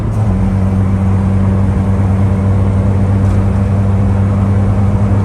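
A 1981 Volkswagen Golf 1 cabriolet with a carbureted engine runs loud and close in a steady, rough idle, its low, uneven drone hinting at coughing and sputtering, with no voices over it.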